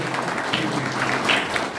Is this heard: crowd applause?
yes